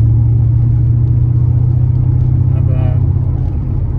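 A BMW E31 840ci cruises at 60 mph around 2000 RPM in sixth gear, a low, steady engine drone and road rumble dominating throughout while a person talks briefly over it.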